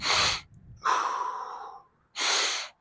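Deep, forceful breaths during a dynamic stretching warm-up: a sharp inhale, a longer audible exhale, then another strong breath, close and alone with no talk.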